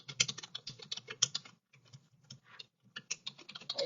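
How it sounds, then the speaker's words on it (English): Rapid clattering keystrokes on a computer keyboard come in close, busy bursts with a brief pause in the middle before the typing resumes. "Typing is a challenge sometimes."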